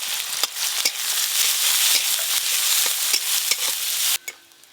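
Chopped onion, ginger and garlic frying in hot mustard oil in a kadai, a loud continuous sizzle broken by scraping stirs, then suddenly dropping away near the end, no voices.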